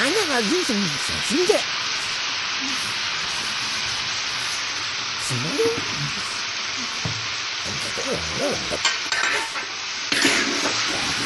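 Drumstick curry with small potatoes, turmeric and salt is stirred in a pan, giving a steady close sizzle and hiss with repeated scraping strokes, while a voice speaks intermittently over the cooking.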